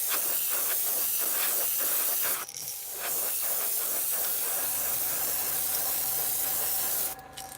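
An airbrush hisses in long, loud bursts, spraying an opaque white base coat onto a fishing lure, with a short break near the middle and a sudden stop near the end.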